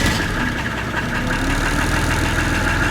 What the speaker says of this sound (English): this is first time I'm ready to go and start the engine